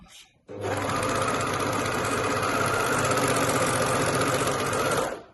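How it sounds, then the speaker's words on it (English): Sewing machine stitching with neutral differential feed, as on a serger, running at a steady fast pace for about four and a half seconds, loud and close, starting abruptly after a brief quiet moment and stopping cleanly at the end. "can you see when I'm sewing with a neutral differential feed"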